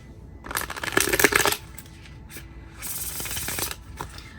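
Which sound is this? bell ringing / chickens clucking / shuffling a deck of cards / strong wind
shuffling a deck of cards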